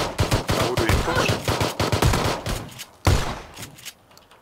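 Rapid automatic gunfire from a firefight in the battle royale game PUBG, dense bursts of loud shots rattling close with short gaps, a sharp volley breaking out again near the end.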